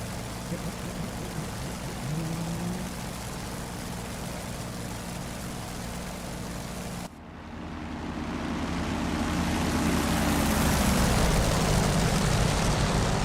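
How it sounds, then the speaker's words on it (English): An F4U-1 Corsair's engine in the DCS WWII combat flight simulator drones steadily and loudly with no break, shifting abruptly partway through and then slowly rising in strength. "Yeah, the engine sounds are definitely lackluster, unfortunately."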